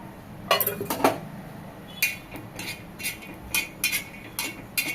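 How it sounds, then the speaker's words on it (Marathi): Dried coconut being roasted with a little oil on an iron tava over a gas flame, with clinks and scrapes of a metal spatula in quick irregular bursts against a faint background hiss, close by. "थोडंसं तेल घालून भाजून घ्यायचं आहे"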